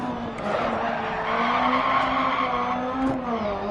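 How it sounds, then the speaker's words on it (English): Wheel spin from a Rallycross 1600 car in DiRT Rally: a loud, continuous tire squeal and skid over a straining engine tone that wavers in pitch, close and unbroken. "A little bit too much wheel spin there."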